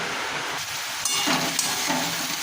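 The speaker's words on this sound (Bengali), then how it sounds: "ভালো করে নেড়ে মিনিট 5-7 মতো চাপা দিয়ে রেখে দেব" Bhetki fish and taro leaf curry cooking in a pan over low-to-medium gas, with a steady close sizzle and scraping stirring strokes running through the whole stretch.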